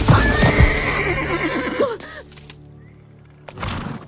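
A horse in an animated film gives a loud, drawn-out whinny over clattering hooves, then a quieter pause before another burst of galloping, with no talk over it.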